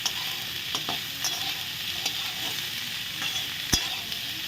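Steady oil sizzling fills the scene as spring rolls fry in a pan, with a few sharp clinks and scrapes of stirring.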